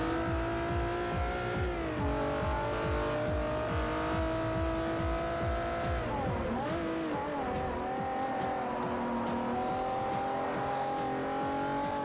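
An Acura NSX race car in Forza Motorsport 4 roars steadily at high revs, its engine note dipping and climbing through gear changes, with faint tire noise and no talk over it.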